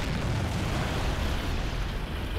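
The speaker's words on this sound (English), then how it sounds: "Mortar starting to get some kills." Continuous, heavy rumbling blasts from mortar fire in the war game Men of War: Assault Squad 2 (Valkyrie WAW 2.0 mod), loud and dense, with overlapping explosions and no pause.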